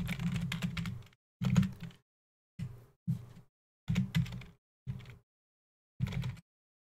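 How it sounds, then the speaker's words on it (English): Keys clacking on a computer keyboard while someone builds a minimap in RPG Maker MV, arriving in short close bursts of rapid typing separated by brief silent pauses. "Typing is hard."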